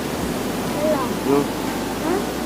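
Water running steadily at an outdoor washing and bathing spot in Kerala, a constant broadband rush close by, with voices talking over it.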